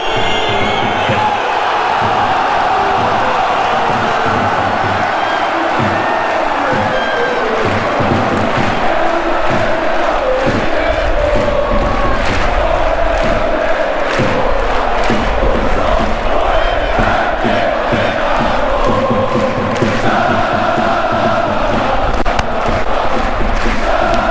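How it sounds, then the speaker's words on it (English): A large football stadium crowd at a Swedish Allsvenskan home match between IFK Göteborg and Halmstads BK roars and boos continuously, a loud, dense wash of voices with sharp bangs and shouts rising through it. "the booing comes from the crowd"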